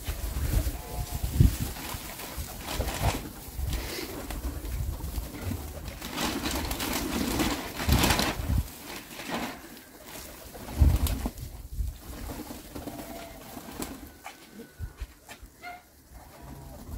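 Pigeons cooing around dovecotes set on stones in a yard after a hurricane, a low, steady burble of calls mixed with rustling and outdoor noise, fairly close and continuous.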